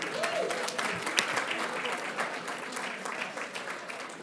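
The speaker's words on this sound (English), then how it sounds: "Let's please give the Austin family a round of applause" An audience at the Victorian Aboriginal Honour Roll ceremony applauds the Austin family, with steady, moderately distant clapping that fades slightly toward the end and a brief voice near the start.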